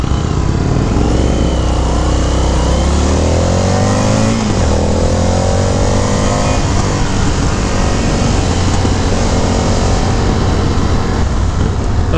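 A 2019 Indian FTR 1200 S motorcycle engine drones loudly and close while riding, revving up through rising pitches, easing off and climbing again, with constant wind rush.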